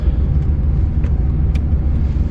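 A warmed-up car with a newly installed Hypertech performance chip idles nearby, a loud, steady low rumble that holds even throughout with no voices over it.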